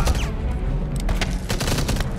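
Rapid gunfire and explosive booms from the World War II shooter game Enemy Front, several loud close bursts in quick succession with no talk over them.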